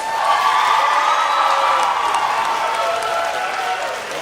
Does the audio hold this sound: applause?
yes